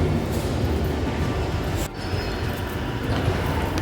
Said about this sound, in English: A train to Harrow and Wealdstone is arriving.